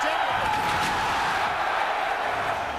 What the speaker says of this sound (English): And you can hear the crowd says it all.